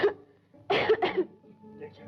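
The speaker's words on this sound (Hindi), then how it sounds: "आज बहुत खांसी आई थी" Two quick, harsh coughs close by, following a brief murmur, then fading into quiet background noise.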